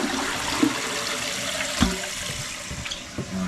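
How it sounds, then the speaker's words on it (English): A newly installed toilet flushes in a bathroom, a steady rushing and swirling water sound throughout with a few sharp gurgles and clunks, close and fairly loud. "Give it a full flush."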